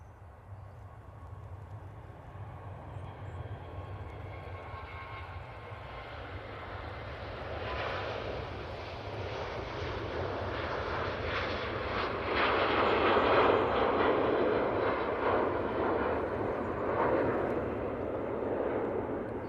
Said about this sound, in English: Let's just get this Virgin off to Orlando